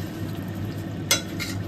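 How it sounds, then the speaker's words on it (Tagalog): A utensil stirs sweet and sour tilapia fish in a pan with a soft sizzle, marked by one sharp scrape or clink and a fainter one just after, with no talking. "haluin natin siya ng bongga"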